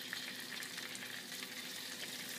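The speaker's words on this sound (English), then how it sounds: "that's the sound that you want to hear, that sizzle" Steady, dense sizzling and crackling of tofu frying in a single layer in hot oil, even and continuous throughout with no voices.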